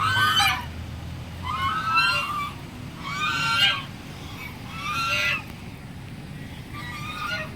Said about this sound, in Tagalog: Ayun, gansa, oh.